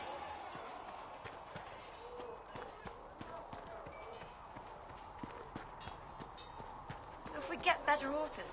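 Horse hooves clip-clop at a gallop in Dragon Age: Inquisition, a steady rhythmic patter running under ambient game sound, with louder hoofbeats near the end.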